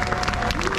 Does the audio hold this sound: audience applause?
yes